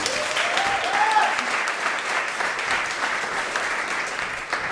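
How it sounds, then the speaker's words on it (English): Audience applause at a coding bootcamp demo day, a steady roomful of clapping that runs throughout, with a brief voice or cheer near the start. "I would also like to ask for one last applause for you"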